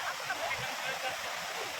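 A strong, rain-swollen river rushes past in a continuous, close, broadband roar, with a voice speaking over the water.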